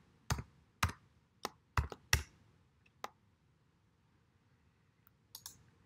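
Several sharp keystrokes on a computer keyboard land in a quick irregular burst while a value is entered, followed by a couple of isolated clicks and a short final flurry in a quiet room.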